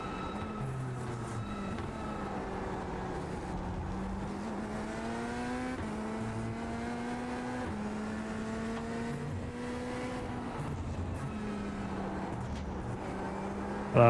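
A GT3 race car engine in the iRacing sim at Virginia International Raceway, heard from outside the car: a continuous mid-loud drone whose pitch rises through each gear and drops at upshifts, with no voices.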